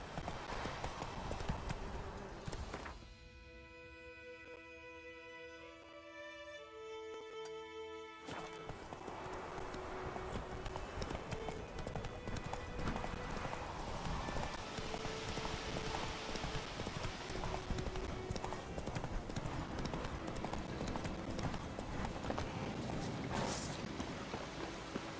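In The Witcher 3, a horse's hooves clip-clop in a steady rhythm with game music and ambience behind them, and a brief quieter break partway through.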